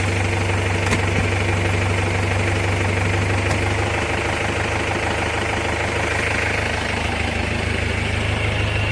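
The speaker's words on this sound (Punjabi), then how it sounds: "ਸਿਰਫ ਇੰਜਨ ਦੀ ਨੌਕਿੰਗ ਸਾਊਂਡ ਆ ਜੀ ਮਗਰ ਬਿਲਕੁਲ ਵੀ ਸਾਊਂਡ ਨਹੀਂ ਹੈ" A restored Mahindra Thar 4x4 with a custom silencer idles steadily and loudly up close, its engine giving a constant low rumble with a faint knocking rattle running through it the whole time.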